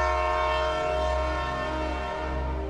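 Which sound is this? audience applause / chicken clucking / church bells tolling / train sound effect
train sound effect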